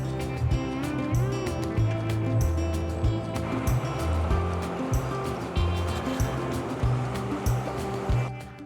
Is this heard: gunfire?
no